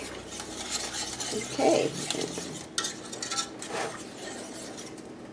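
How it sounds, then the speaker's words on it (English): A cola frosting mixture is whisked in a pot, with a steady scratchy swishing and light metallic clatter close by; a voice speaks briefly. "You have to whisk this constantly because you don't want anything to stick or scorch"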